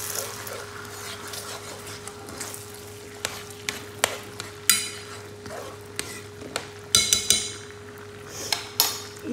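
Fried tomato is stirred into onions in a pan for stuffed piquillo peppers, a low sizzle under a steady hum, with scattered spoon clinks and scrapes growing louder and more frequent toward the end, and no speech.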